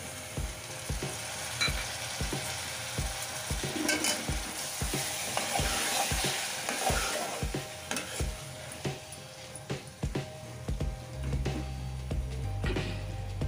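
Chicken added to fried onion and green chilli sizzles in a pan while a spoon scrapes and stirs in regular knocks, close and fairly loud, with no talking.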